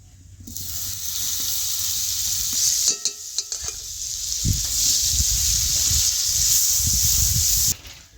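Butter sizzles in a hot kadai with a steady bright hiss, broken by a few metal clinks of a utensil near the middle, then cuts off abruptly near the end.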